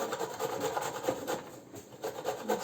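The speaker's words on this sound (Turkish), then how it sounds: "Şimdi onu da hemen rendeliyorum" Peeled, halved celery root is grated by hand in quick, even rasping strokes, close and steady, with a brief lull in the middle.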